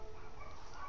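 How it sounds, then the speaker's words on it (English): Several dogs barking indoors at a moderate level, blended into a steady, dense background hum for the whole second. "Excuse the dogs."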